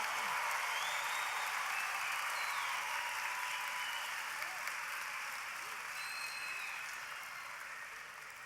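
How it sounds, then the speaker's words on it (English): Audience applause at a UA Little Rock fall commencement ceremony for College of Social Sciences and Communication graduates. The clapping is steady and dense, like a large crowd, and fades slightly toward the end. "let's applaud our College of Social Sciences and Communication graduates"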